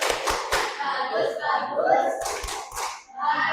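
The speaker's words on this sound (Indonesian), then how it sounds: "Maka ini kasih juga tepuk tepuk bagus. Tepuk bagus." A group at a lecturer certification session performs a patterned clapping chant, rhythmic bursts of claps and slaps mixed with voices chanting along, close and fairly loud.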